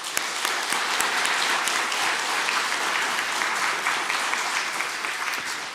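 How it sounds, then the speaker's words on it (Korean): Sustained applause from a church congregation during a children's department dedication worship service, steady dense clapping across the whole stretch with no talking over it. "우리 대형교회 성도님들 박수 한번."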